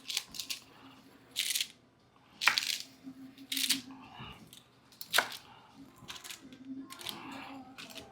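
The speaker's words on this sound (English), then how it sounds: "We can sit there," Cookies are cut out on a cookie sheet in a home kitchen, heard as a handful of sharp, separate scraping clicks spaced apart, with quiet room noise between them.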